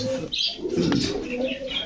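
Babra fata pigeons cooing at a pigeon seller's, soft low coos and some wing or rustling noise over about two seconds, close by, with no talk.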